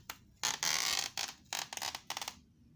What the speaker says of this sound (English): you take off the rubber stand. It's held in position